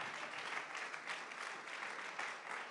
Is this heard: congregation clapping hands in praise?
yes